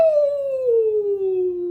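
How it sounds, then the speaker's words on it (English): A beast in a Beauty and the Beast storybook sound effect lets out a single loud, sustained howl that slowly falls in pitch, close and clear. "the beast howled angrily"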